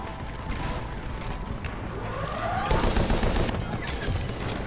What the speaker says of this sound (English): They've turned our turrets against us.